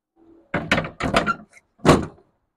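A grass collection box being refitted to a John Deere X350R lawn tractor, heard as a few close, solid plastic-and-metal thunks and knocks in quick succession, then a final clunk as it seats.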